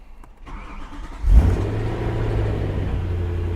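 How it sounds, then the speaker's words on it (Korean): A BMW E92 M3 V8 engine starts with a sharp bark, then settles into a loud, steady rumbling idle close by, quiet before the start and with no one talking. "과연 엔진에서 어떤 소리가 날지"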